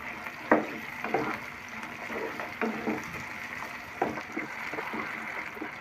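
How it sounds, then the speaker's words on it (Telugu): Potato pieces tipped into a pan of lightly fried onions, giving a soft, steady sizzle with a few louder clattering bursts as they land and settle, fairly quiet and heard alone. "ఉల్లిపాయలు కొద్దిగా వేగిన తర్వాత కట్ చేసి పెట్టుకున్న బంగాళాదుంప ముక్కల్ని వేసుకుంటున్నానండి."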